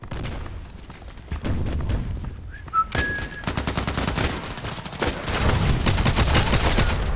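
Mortar fire and gunfire in the shooter Contract Wars: a brief whistle, then dense rapid gunshots and bursts of automatic fire that grow louder and denser toward the end.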